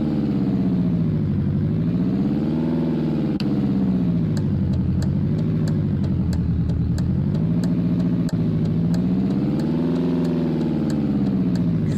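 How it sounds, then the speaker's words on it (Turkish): Police car engine in a driving simulator game, a continuous loud engine drone that rises and falls in pitch as the car accelerates and slows, with light regular clicking ticks over it. "Şey polis aracı ya"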